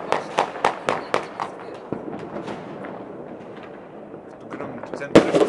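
New Year fireworks burst in a quick series of sharp cracks and bangs, then go quiet under a low rumble of crowd noise before one more loud blast, while people talk nearby.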